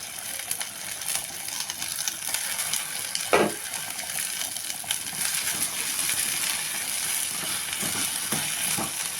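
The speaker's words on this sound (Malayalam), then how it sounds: "വെണ്ടയ്ക്കയും കൂടെ വറക്കാൻ പറ്റിയത് അതും കൂടെ ഇട്ട് നമുക്ക് ഇളക്കി കൊടുക്കാം" Okra fries in a pan, sizzling steadily and loudly up close while a spatula stirs it, with occasional scrapes and one sharper knock against the pan.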